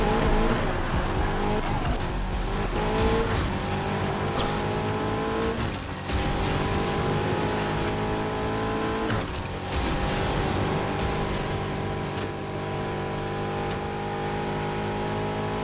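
Nissan Skyline R34 racing in Need for Speed Heat, its engine droning loud and steady with rising and falling gear-change pitch and tire squeal, a continuous close car sound with no talk.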